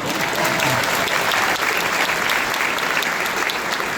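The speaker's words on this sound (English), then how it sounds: "give that a round of applause" Audience at a youth-of-the-year awards event in Dallas, Texas breaks into loud, sustained applause, dense clapping that fills the room steadily for the whole stretch with a few cheers mixed in.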